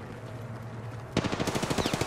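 Rapid automatic gunfire in the battle royale shooter Apex Legends bursts in suddenly after a low hum, a fast rhythmic string of loud close shots.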